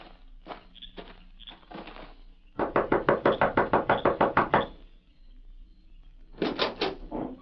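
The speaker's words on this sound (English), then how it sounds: "You knock on door." Knocking on a wooden shack door in an old-west audio drama: a rapid run of about fourteen sharp, close knocks, preceded and followed by softer scuffing steps.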